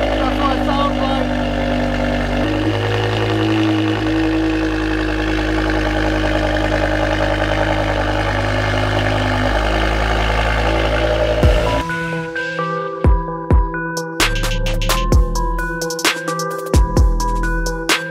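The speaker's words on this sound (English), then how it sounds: "Just a quick cold start up of the M5." A decatted BMW M5 V10 catches on a cold start and settles into a loud, steady idle with a deep, rumbling drone; the engine note cuts off near the end, leaving scattered clicks and knocks.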